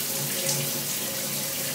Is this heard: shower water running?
yes